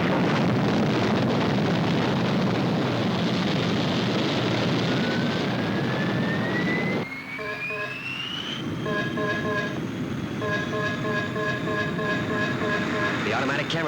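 Thunderbird 1 aircraft takes off with a loud, steady roaring rush and a rising whine. A rhythmic electronic pulsing signal breaks in over the engine partway through.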